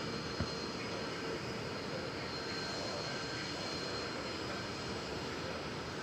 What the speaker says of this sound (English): off to Las Vegas. An Airbus A320neo